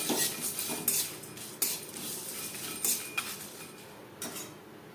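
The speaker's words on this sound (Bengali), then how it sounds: "মশলা আমি হালকা করে ভেজে নেব।" Whole spices such as nutmeg, cinnamon, cloves, cardamom, coriander and cumin lightly frying in a pan, heard as scattered clinks and scrapes of a metal utensil against cookware over a soft hiss, with a few sharper stirring knocks.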